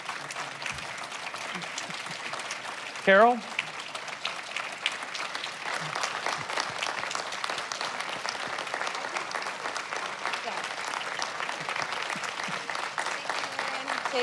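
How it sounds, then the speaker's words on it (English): Steady, moderately distant applause from a nursing conference audience for panelists, continuing for over ten seconds with a brief spoken call partway through. "Let's give our panelists a huge round of applause."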